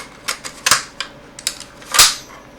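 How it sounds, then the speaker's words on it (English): P90 bolt and barrel assembly dropped back into the receiver during reassembly, giving a run of close, crisp metallic clicks and clacks ending in a louder snap. "Drop our bolt back in, and our barrel assembly."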